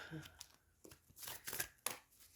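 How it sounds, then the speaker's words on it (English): Tarot cards shuffled by hand, a few quick riffling bursts with soft papery crinkles between them, faint and close, with a voice speaking around them. "when I'm trying to shuffle these cards, they're getting stuck"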